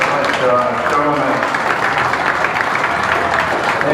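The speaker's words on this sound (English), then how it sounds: "Give these showmen a round of applause" An audience claps for cattle showmen at a county fair beef show, a steady dense round of applause filling the arena while someone talks over it through a loudspeaker.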